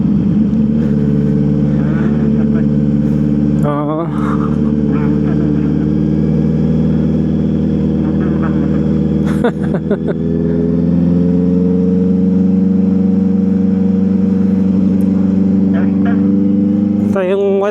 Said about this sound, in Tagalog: Ang bagal na itong kotse.